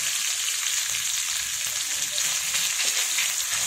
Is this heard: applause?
no